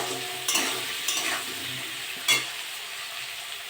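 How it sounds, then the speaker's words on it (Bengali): Potatoes frying with turmeric and salt while being stirred, giving a soft steady sizzle broken by a few distinct scraping knocks of a spoon in the pan; quiet and close, with no voices. "নেড়ে একটু ভেজে দেবো।"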